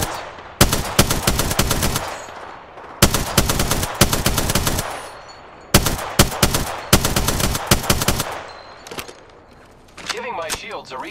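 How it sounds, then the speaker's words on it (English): Automatic gunfire in Apex Legends comes in long, loud, rapid bursts separated by short pauses, close and harsh, followed by some fainter clatter at the end. "Getting shot at."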